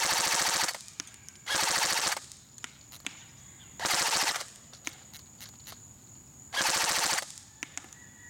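A G&G GR16 CQW airsoft rifle with blowback fires full auto at a target, cutting four separate loud rattling bursts of about half a second each. Faint clicks and handling noise fill the gaps between bursts.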